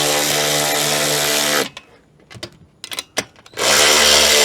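A power tool tightens bolts on an Openroad Trail Series 270 awning in loud, close whirring bursts, with a pause between them filled by clicks and handling clatter.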